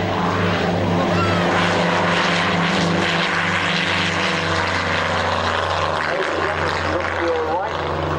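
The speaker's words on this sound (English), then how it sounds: "Something big and it's French and it's noisy. It's the Dassault Flamand. And it's low." A Dassault Flamand flies low over an Army Air Corps airshow at Middle Wallop, giving a loud, steady, droning propeller-engine roar that fills the whole stretch, with talk underneath.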